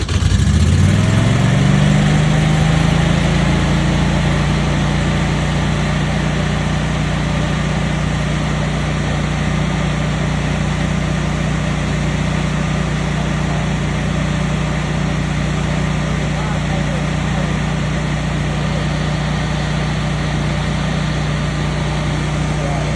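A Generac standby generator starts up and settles into a loud, steady running drone with a constant low hum and broadband exhaust-fan noise, heard close up throughout.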